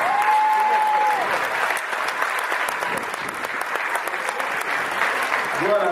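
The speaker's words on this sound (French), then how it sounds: "Et je voudrais qu'on applaudisse bien fort ce jeune homme" Loud, dense audience applause rewarding a young footballer at a youth Champions League tournament prize-giving, with a brief tone at the start and voices murmuring underneath, filling the whole stretch.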